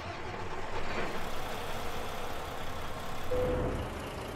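A Mack Pinnacle truck engine with a 505 horsepower rating fires up in American Truck Simulator, settling into a steady, loud low rumble that holds throughout and swells slightly toward the end.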